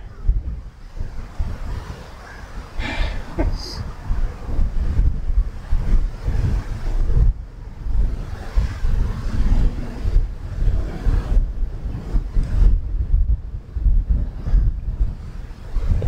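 Strong wind gusting across an open golf course, roaring steadily into the microphone with heavy low buffeting that rises and falls throughout and no talk over it.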